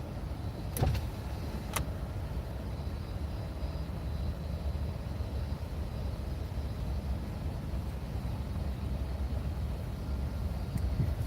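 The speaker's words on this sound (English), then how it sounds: "Let's roll down my windows and air out my car." Car power windows lowering while parked on a warm day, a steady motor whir under broad engine and road rumble, with a couple of brief clicks near the start, close and continuous throughout.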